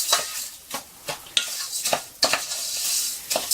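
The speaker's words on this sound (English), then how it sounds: "we're going to just give a quick stir round. You're wanting to melt the butter in." Spoon stirring butter into chicken curry in a pan, quick scraping strokes mixed with a soft sizzle and light clinks against the pan, close and fairly loud, no talking.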